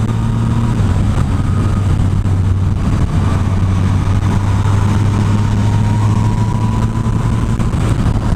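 A motorcycle with about 46,000 miles, recorded from a chin-mounted camera while riding, gives a steady loud engine drone with constant wind rush and no speech.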